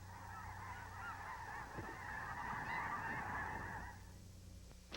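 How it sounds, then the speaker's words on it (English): A flock of geese honks continuously in a dense overlapping chorus, faint and distant, fading out near the end. "Listen to the pretty geese."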